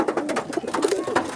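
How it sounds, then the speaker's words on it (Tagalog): Pigeons released outdoors coo close and loud in a continuous, throaty burble of overlapping calls. "Ayun mga kalapatids."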